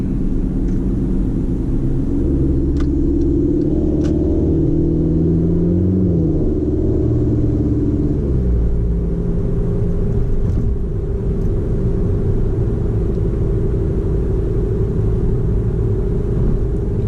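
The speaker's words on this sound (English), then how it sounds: "You'll just get cabin noise only when you're accelerating" Cabin of a 2016 Volkswagen Jetta 1.4T S with a Unitronic Stage 2 tune while accelerating: a steady, loud low engine and road rumble with a faint rising drone in the middle, and no talking.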